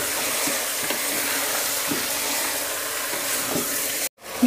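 Beef with garlic-ginger paste sizzles steadily in a pan over high heat, a loud, even hiss with faint stirring knocks, cut off abruptly near the end.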